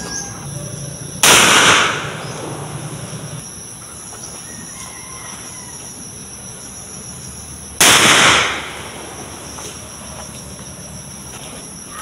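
Two loud gunshot blasts about six seconds apart, each a sharp broadband crack with a short decaying tail, from test firing old ammunition at an outdoor firing range; quiet background in between.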